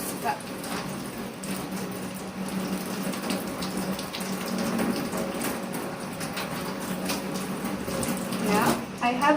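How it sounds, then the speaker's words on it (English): Tap water runs steadily over a soap bar being rinsed at a handwashing sink, a continuous close splashing hiss with shifting texture as hands move under the stream. "we need to place it again under the running water to lessen the microorganisms it has got."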